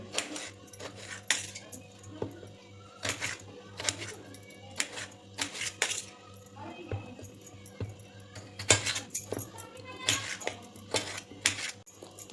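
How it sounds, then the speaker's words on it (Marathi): Knife chopping washed tomatoes on a board, irregular sharp taps in quick bursts with short pauses between, close and fairly crisp, with occasional background noise. "इथं टोमॅटो स्वच्छ धुवून घेतलं आहे ते पण चिरून घेते"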